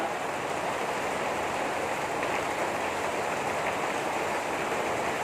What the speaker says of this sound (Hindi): इतनी तेज बारिश हो रही है ना